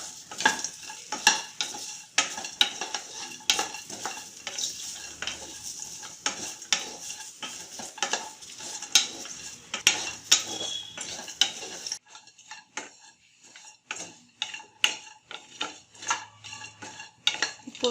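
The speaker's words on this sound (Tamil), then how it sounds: "இந்த தேங்காவை பார்த்தீங்கன்னா 2லேருந்து 3 நிமிஷம் நல்லா வதக்கணும்" Grated coconut stir-fried in a pan for a south Indian sweet, with a busy rhythm of spatula scrapes and metal clinks over a soft sizzle, loud and close at first and quieter in the last stretch.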